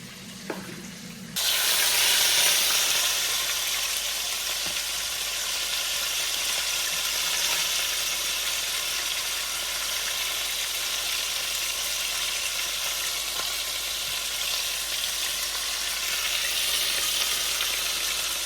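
Chicken cutlets sizzle in a hot pan: a loud, steady, close frying hiss that bursts in after a brief quiet start and holds evenly throughout, with no talking.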